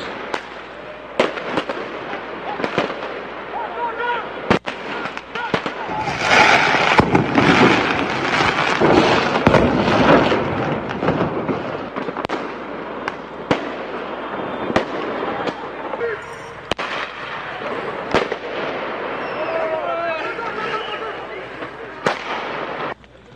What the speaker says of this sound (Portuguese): Esse é mais ou menos o som desse enfrentamento que houve quando os populares atiraram fogos de artifício na polícia